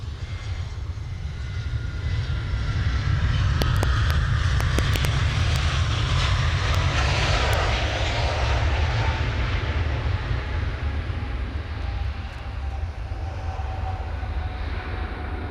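A jet aircraft engine roars steadily at Cairns Airport. The broad, sustained rumble stays loud throughout, with a few sharp metallic clicks early on and a faint whine running underneath.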